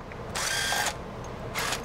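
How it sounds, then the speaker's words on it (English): A power tool zips out the supercharger pulley bolts on a 2020 Shelby GT500, with two high-pitched whirring bursts, a longer one and then a short one, close up with no talking. "We're gonna use power tools to speed things up."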